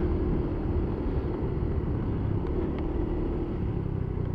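A motorcycle rides uphill toward a dam, its engine giving a steady, continuous rumbling drone that stays loud throughout with no voices.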